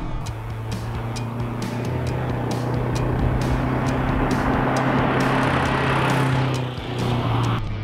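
A turbocharged classic Mini with a four-speed gearbox drives along, its engine a steady, loud drone with constant road and wind rumble and a brief dip near the end.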